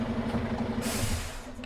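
A new Mitsubishi Fuso Super Great truck idles with a low engine hum, then lets out a sudden broad air hiss that lasts to the end, close by, with no talking.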